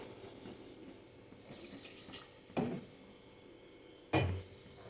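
Water poured or running from a tap into a kitchen vessel while making a spice paste with tomato and green chillies for a Bengali jackfruit curry; a soft splashing stream with a couple of brief knocks of utensils, no talk.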